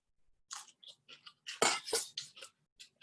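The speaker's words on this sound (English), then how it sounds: "Hopefully you guys can hear me chewing and hear how crunchy they are." Crunchy chewing of home-fermented vegetables, close and loud, with a quick series of sharp crisp bites and crunches, two especially loud ones in the middle, separated by brief quiet gaps.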